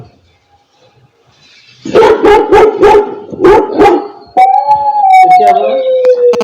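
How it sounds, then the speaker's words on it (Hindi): Recorded dog barking played back through an Alexa smart speaker indoors, a rapid burst of five or six loud barks in a row, then a long drawn-out howl-like tone that follows right after. "एलेक्सा, कुत्ते की आवाज़ निकालो।"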